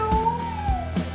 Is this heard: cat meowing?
yes